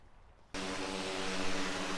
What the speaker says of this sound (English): I can see the drone now.